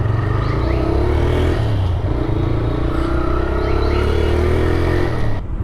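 A used motorcycle engine runs on test, a loud, steady idle rumble with a few slight rises in pitch, close by and continuous until it cuts off at the end.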